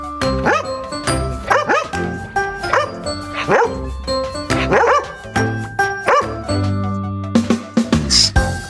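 A dog barks repeatedly in short, sharp bursts with a few higher yips, fairly close, over a tonal musical background.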